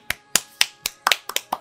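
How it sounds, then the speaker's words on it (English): A few people clap in a podcast setting, giving about eight sharp, separate claps in an uneven rhythm, close and fairly light, with no talk over them. "Give yourselves a round of applause."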